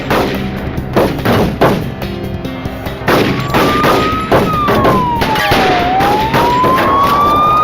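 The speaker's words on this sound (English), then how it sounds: "The Suburban's driver opened fire." A burst of gunfire comes from a suspect's Suburban as loud, close sharp cracks. A rising and falling siren wail sweeps through the second half.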